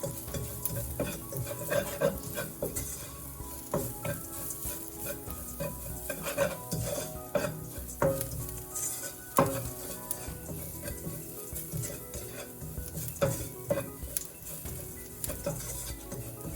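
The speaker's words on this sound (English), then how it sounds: "Lower the heat and mix the masala really well with the onions." Masala and onions for sev tamatar subzi are stirred in a hot pan, giving repeated scraping spoon strokes over a constant close sizzle, with occasional metallic knocks against the pan.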